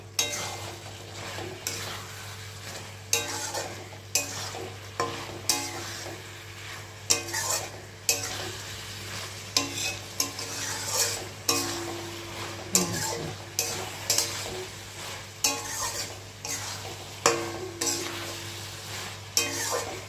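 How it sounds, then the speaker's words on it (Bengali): Tangra fish frying with coriander leaves, a steady low sizzle broken by regular scraping stirs of a spatula against the pan, each stroke a few seconds apart, close and without voices. "পুরো ধনে পাতাটা দিয়ে নেড়ে নামিয়ে নেব"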